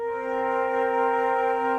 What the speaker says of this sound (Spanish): Una séptima suena así